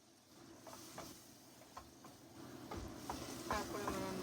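Water poured into a pan where egg and spices are frying, a faint steady sizzle and hiss with scattered stirring clicks that grows slightly louder toward the end.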